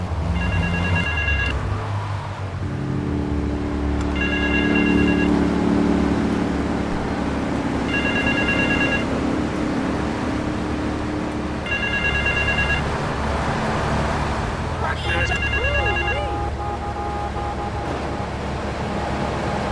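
Payphone in Grand Theft Auto III rings in repeated evenly spaced bursts, about five rings, over a constant rumble of traffic and background game sounds.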